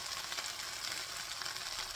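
Okra frying in a pan with sesame seeds added, a steady close sizzle and crackle of hot oil running evenly throughout with no voices.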